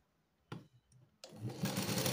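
A household sewing machine begins stitching a lined katori blouse: a couple of soft clicks, then a steady, close whirring run that builds and holds.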